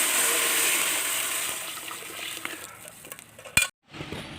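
Water goes into a hot pot with turmeric while cooking a beef leg curry, a hissing sizzle that gradually fades, followed by a short sharp clank of utensil on pot near the end.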